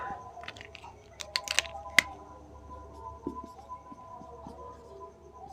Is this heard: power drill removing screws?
no